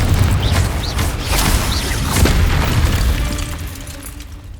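A Confringo blast spell explodes in the video game Hogwarts Legacy, a loud booming burst with crackling debris and rumbling tail, followed by further heavy thuds before fading out.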